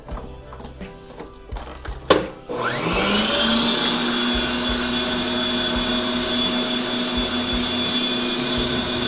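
An electric stand mixer beats cake icing in its bowl. A few clatters come first, then the motor spins up into a loud, steady whirring whine that runs to the end.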